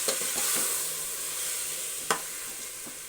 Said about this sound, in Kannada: ಇವಾಗ ಇದನ್ನು ಸ್ವಲ್ಪ ಎಣ್ಣೆಯಲ್ಲೇ ಫ್ರೈ ಮಾಡೋಣ